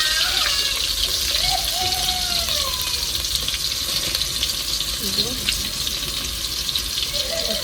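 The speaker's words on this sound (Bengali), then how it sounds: "মশলাটা দিয়ে দিয়েছিলাম আমি, মাংসটা ভেজে নিচ্ছি আমি।" Meat sizzling in a pan with spices, a steady loud frying hiss with faint stirring, close by and continuous throughout.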